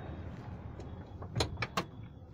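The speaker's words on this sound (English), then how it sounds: "Now let's see how this door closes." The power sliding door of a 2021 Kia Carnival Limousine closes with a low motor whir, then a few sharp latching clunks near the end, heard close up inside the van.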